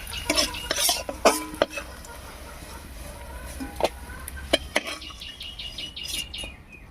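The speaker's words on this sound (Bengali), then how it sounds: "পটল ভাজা এই তেলের মধ্যেই কয়েকটা কিশমিশ ভেজে নিচ্ছি" Raisins frying in oil left over from frying pointed gourd, a steady close sizzle with scattered spoon clinks and scraping against the pan throughout.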